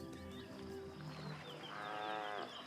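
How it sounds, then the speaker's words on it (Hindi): A small herd of buffalo stands knee-deep in water, drinking and lowing softly. One drawn-out moo swells near the end over a steady background hum. "पानी से रंभाने की हल्की आवाजें आ रही हैं"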